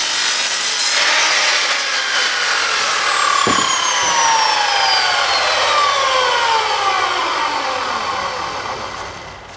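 A handsaw cuts a 10-foot 2x4 to length for a shed floor frame, a loud, steady rasping stroke that fades slightly near the end, with no voices.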